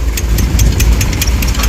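A new tractor's engine idles loud and close with a steady low rumble and fast, even knocking pulses from the diesel. No voices are heard.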